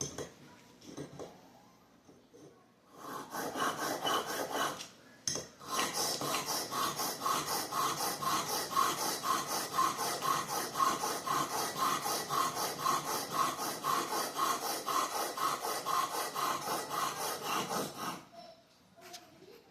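A broadhead arrow tip is drawn in steady, rapid strokes across a sharpening surface, making a continuous close rasping scrape that runs for most of the clip with a few short pauses.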